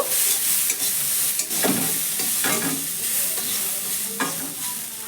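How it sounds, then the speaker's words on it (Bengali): A spoon scrapes and stirs food in a pan on the stove, with a few distinct clanks against the metal over a soft continuous sizzle, close and moderately loud, with no talking. "তো ঢাকনাটা সরিয়ে নিয়ে ভালো করে আবার একটু নাড়াচাড়া করে দেব"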